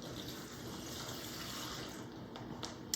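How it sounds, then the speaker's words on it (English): A brine and water mixture is poured into a Ziploc bag holding small steak bites, a steady close splashing gush that runs unbroken and fairly quiet, with no talking over it. "In goes our brine water mixture."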